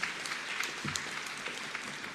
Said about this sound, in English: A round of applause will do.